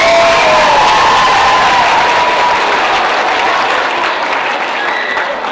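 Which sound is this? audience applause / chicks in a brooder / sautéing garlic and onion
audience applause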